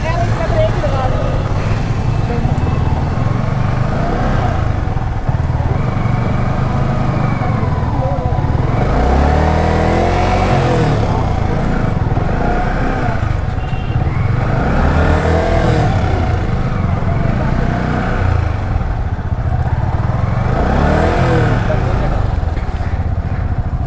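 A motorcycle engine revs repeatedly while the bike is stuck on a rough hillside track, loud surging rises and falls, with people talking over the engine throughout.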